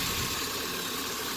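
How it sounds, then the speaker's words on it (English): A 5.7-litre LS1 V8 car engine runs at a steady idle, a close, even mechanical hum and rumble that holds without change, with no talking. "the engine runs good"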